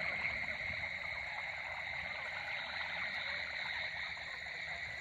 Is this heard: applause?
no